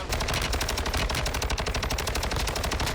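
Rapid automatic gunfire from a weapon in Call of Duty: Warzone, fired at long range in a steady, dense stream of shots at constant loudness throughout.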